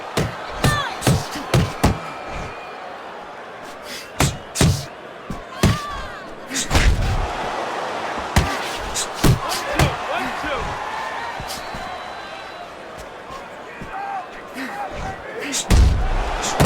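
Punches landing in the boxing video game Fight Night Champion: a rapid series of loud, sharp thuds and slams in quick combinations over a steady crowd murmur, with a commentator talking throughout.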